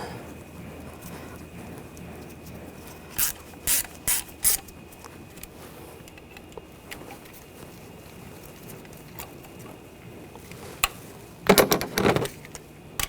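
Ratchet tightening ignition coil bolts on a 2013-2022 Buick Encore engine, heard as several short bursts of rapid clicking at close range, then a louder, denser cluster of clicks near the end.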